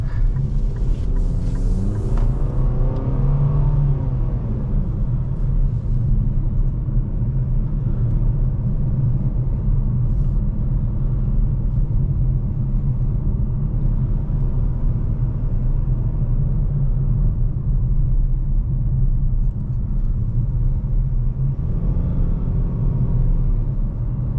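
Steady, loud engine and road rumble fills the cabin of a 2025 Nissan Kicks SR driven in sport mode, with tire and wind noise under a brief swell of acceleration near the end.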